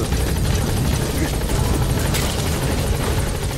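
Helicopter in a video game with a loud, steady rotor thump and engine drone, continuous and close throughout, with a voice talking over it.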